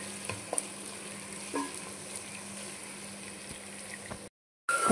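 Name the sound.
sliced onions sautéing in a pan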